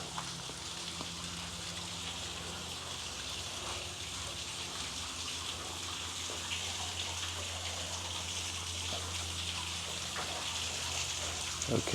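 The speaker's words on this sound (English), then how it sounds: "the water comes out over there, runs across the land for a very short amount of time, and then down into this hole it goes" Spring water at the Sinking Spring, a spring at Abraham Lincoln Birthplace in Kentucky, flows a short way across the land and drops into a sinkhole, a steady, close trickling and gushing wash that holds even throughout.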